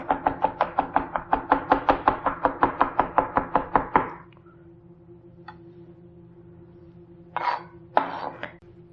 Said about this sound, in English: Now I'm going to chop it really thin.